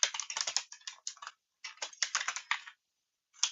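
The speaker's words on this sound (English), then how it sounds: "Typing is hard when you get your nails done" Fingers with done nails type on a computer keyboard in quick bursts of close, clicky keystrokes, broken by short pauses, with no talking.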